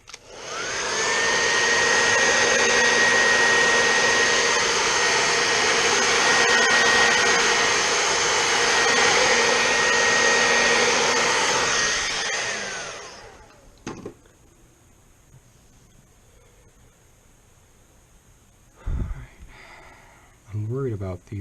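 A heat gun blows with a steady, loud whirring roar for about thirteen seconds while parts are heated during a phone repair, then cuts off, leaving a quiet room with brief handling noises and a short voice near the end.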